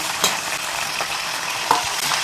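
Gongura (sorrel) leaves fry in a pan, a close, loud, steady sizzle broken by a few sharp stirring scrapes.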